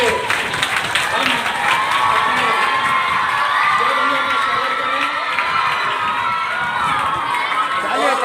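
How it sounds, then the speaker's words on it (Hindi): A crowd of children and adults claps and cheers loudly at a celebration in Lucknow honouring a 17-year-old who earned a rank in the Indian Army, with whoops and shouts over continuous applause. "एक बार जोरदार ताली से"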